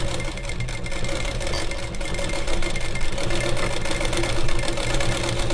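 A sewing machine stitching along the edge of a boat neck blouse, running in a continuous close-up whirring hum with a fast mechanical rhythm throughout, without speech.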